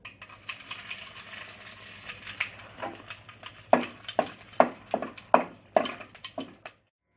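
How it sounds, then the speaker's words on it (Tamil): Mustard seeds and dried chilli frying in sesame oil as a tempering for coriander chutney: a close, steady sizzle broken by a run of sharp, irregular pops and crackles that builds toward the end before cutting off. "கடுகு வெடிச்சிட்டு காஞ்ச மிளகாய் 1 கிள்ளி போட்டுக்கிறேன்."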